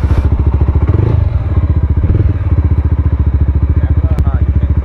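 An adventure cruiser motorcycle pulls away, its engine a loud, steady rhythmic thrum close by with a few clunks and rattles riding over the pulsing exhaust throughout.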